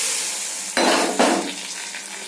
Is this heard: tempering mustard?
yes